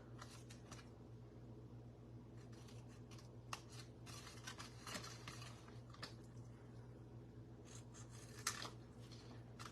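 Scissors snip through ribbon for a card craft, making faint, crisp cuts in short clusters over a steady low hum of background noise.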